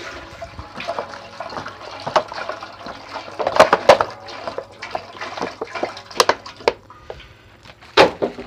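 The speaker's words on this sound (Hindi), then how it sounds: "ये सभी पानी पतीले में डाल देना है आपने।" Water is poured into a large cooking pot while making sharbat, nine kilos in all, producing an uneven splashing and gurgling stream with irregular sloshes, fairly close and steady for several seconds.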